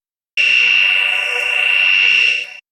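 A sustained Synapse Audio Dune 2 synthesizer tone with a sweeping, whooshing phaser movement swirling through it, held for about two seconds before fading out.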